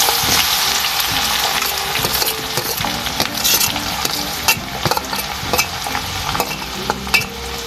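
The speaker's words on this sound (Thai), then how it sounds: "ต่อไปก็ลงกระเทียมต่อเลยค่ะ เจียวในน้ำมันที่เจียวหมูนี่แหละค่ะ" Garlic fries in hot oil left over from frying pork, a loud, steady sizzle broken by frequent scraping stirs and light clinks of a utensil against the pan, with no voices.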